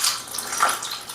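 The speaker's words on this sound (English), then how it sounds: "We're going to pour in the Kangen water" Kangen water pours into a cup holding a tea bag in one short, close splashing stream that trickles and fades within about a second.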